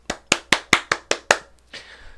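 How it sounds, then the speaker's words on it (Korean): One person claps hands seven times in an even, quick rhythm, each clap sharp and close, followed by a faint rustle. "박수 한번 치겠습니다."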